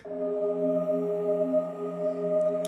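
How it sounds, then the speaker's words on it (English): A soft, sustained pad synth tone of pink noise through a key-tracked bandpass filter, with a breathy, filtered noise quality, holds steadily at low volume. "Some pink noise run through a key-tracked bandpass filter."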